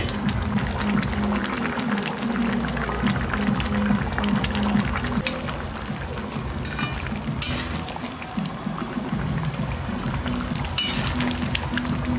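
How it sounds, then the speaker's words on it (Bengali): Hot water poured into mutton curry cooking in a pot, a steady close sizzling, bubbling wash that runs throughout with no pause, with no voice over it. "এবারে আমি গরম জল দিয়ে দিচ্ছি।"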